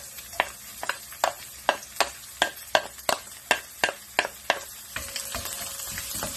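Onion frying in a pan over an open fire, with a steady sizzle under a brisk, even run of about a dozen scraping stirs that give way to a softer, continuous hiss near the end.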